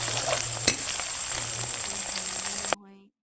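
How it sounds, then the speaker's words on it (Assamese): Meat cooking in a pan sizzles steadily and fairly close, with a couple of sharp clinks along the way, before the frying cuts off abruptly into near quiet. "মাংস বনোৱা"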